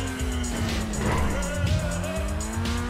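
A Grotti Turismo Omaggio supercar drives in GTA Online, its engine revving steadily with brief tire squeal and shifting tones, loud and close with no talk.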